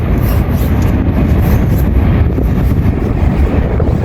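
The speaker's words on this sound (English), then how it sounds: "Got a cool train passing by." A train rolls past near the Salt Flats in Utah, a loud, continuous low rumble and rattle heard up close, mixed with buffeting wind noise on the microphone and no break over the few seconds.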